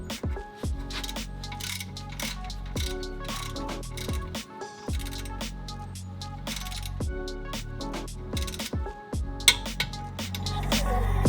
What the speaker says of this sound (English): Just gonna go straight into the torque wrench at 25 foot-pounds of torque.